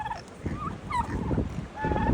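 Turkeys gobble after escaping through a gate left open by strong winds, giving several short warbling calls close by in quick succession over faint outdoor noise.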